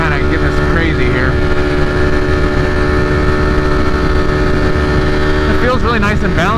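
A 2020 Ducati Streetfighter V4 with a BT Moto ECU flash tune roars loud and close while being ridden, a steady high-revving engine drone with wind, and a rider talks briefly over it.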